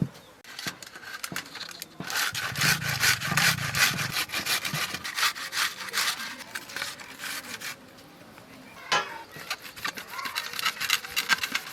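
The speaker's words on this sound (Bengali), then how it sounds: "আমি লঙ্কাটা বেটে নেবো।" Dried chillies are ground by hand on a flat grinding stone, a close, rhythmic scraping and rubbing of stone on stone that repeats in quick strokes, with a brief pause near the middle and no clear talking.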